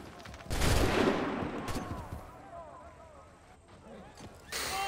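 A gunfire volley erupts in Assassin's Creed 3, a loud burst of overlapping musket shots followed by a rumbling decay and scattered battlefield noise, then another burst near the end.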